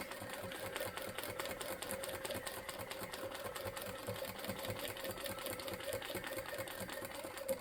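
A sewing machine runs steadily, stitching the stems on a quilt in a fast, even mechanical rhythm with a close, continuous whir that never pauses.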